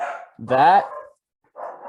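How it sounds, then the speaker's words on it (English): A household dog gives a short bark in the background while someone speaks indoors. The bark is a brief, moderately loud burst between pauses in his talk. "I apologize if you can hear my dog barking in the background"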